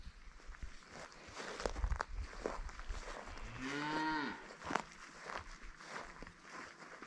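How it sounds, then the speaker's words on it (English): A cow on a farm gives one long, drawn-out moo partway through, fairly close and clear, with shuffling footsteps and faint rustling around it. "You're a good cow. Yes, you are."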